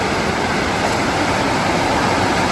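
Flooded creek water pouring over an old dam, a dense, steady roaring rush with no letup, loud and close.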